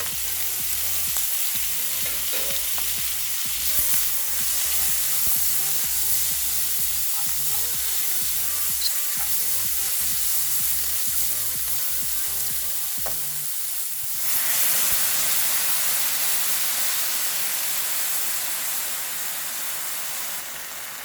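Stir-fried vegetables hit a hot pan that just held pork neck steak, crackling in a loud, steady sizzle with spatula scrapes; the hiss swells again briefly near the end.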